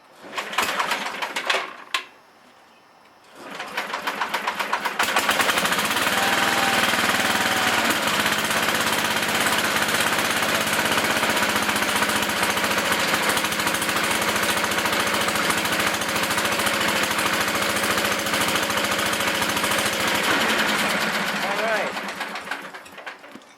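A tractor engine cranks briefly, stalls, then starts and runs at a steady rumbling idle for a long stretch before winding down; someone talks over it.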